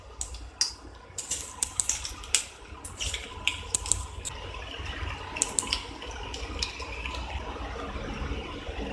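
Bitter gourd slices deep frying in hot oil for chips give a steady, close crackling sizzle, broken by sharp spits and pops that cluster in the first half. No one speaks.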